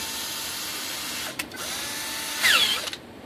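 A power drill fitted with a 5/16 inch bit whirs steadily and close, with a brief dip partway through and a short rise in pitch near the end before it stops.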